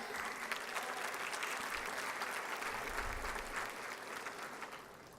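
A round of applause from the audience at a State of the City address for the city treasurer, steady moderate clapping from a crowd that slowly tapers at the end.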